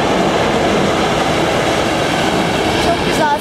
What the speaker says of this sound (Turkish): Arada tren geçiyor, bize enteresan geliyor, seviyoruz.